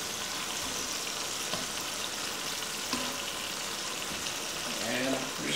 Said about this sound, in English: Just throw in our onions.